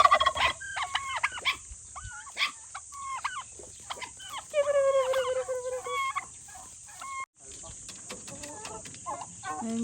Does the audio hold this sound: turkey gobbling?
yes